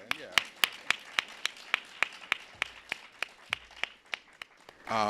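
A single pair of hands claps at a steady, even rhythm, close and fairly sharp, at a film festival opening screening, with no other voices and a brief rustle at the end.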